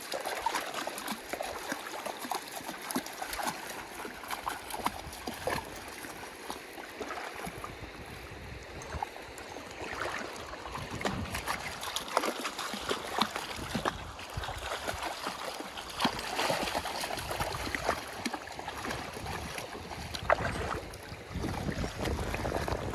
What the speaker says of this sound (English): we have found the creek again